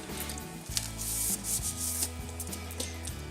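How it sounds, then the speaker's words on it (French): A tempered glass screen protector for a Nintendo Switch slides out of its case with close rubbing and scraping rustles and a few soft knocks, quiet and with no talking. "Je sors la protection en verre trempé de son étui."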